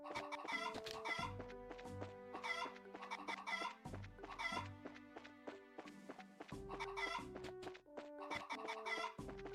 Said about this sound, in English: Making me have to chase chickens.